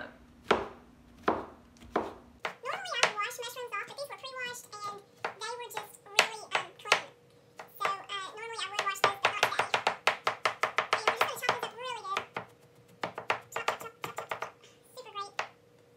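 Vegetables for a salad being chopped on a cutting board, a run of sharp knife strikes that starts sparse and builds into fast, steady rhythmic chopping, with a few quiet sounds before it begins.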